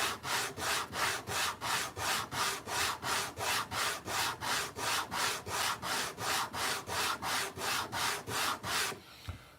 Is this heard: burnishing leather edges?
yes